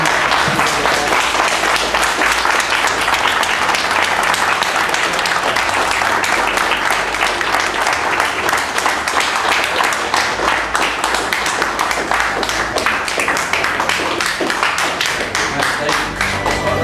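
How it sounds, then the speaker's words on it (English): Sustained applause and clapping from a conference audience giving a standing ovation, dense and steady throughout, loud and close, with a few voices mixed faintly into the crowd. "I would really like everyone to give them a standing ovation and a massive round of applause"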